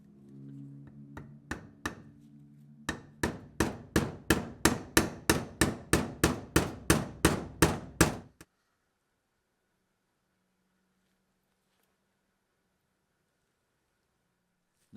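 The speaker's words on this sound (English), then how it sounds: "You can just use a long socket to tap it back into place." Metal tapping with a long socket driving an ignition part into place on a Ford Bronco, a run of about twenty sharp, evenly spaced knocks that quicken slightly, then stop, leaving near silence.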